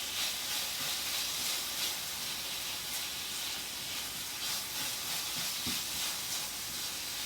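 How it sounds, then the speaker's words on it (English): Onions and garlic with pork sizzle steadily in a pan for a chow mein, a continuous close hiss with a few faint scrapes and knocks, no talk. "we're going to add in our onions and garlic"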